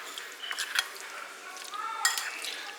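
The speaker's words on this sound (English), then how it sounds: "Now I'm just gonna mix it up" Black beans and other keto bowl ingredients are stirred in a dish, giving irregular clinks and scrapes of a utensil against the bowl at close range, with a sharper cluster of taps near the end.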